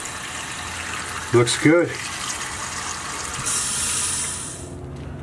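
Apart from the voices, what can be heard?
water flowing from the faucet after the RV water pump repair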